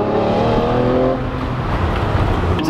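A manual Lamborghini Murcielago LP640 V12 with secondary cat delete and muffler delete roars loudly and continuously, its pitch falling as it eases off, with no one speaking.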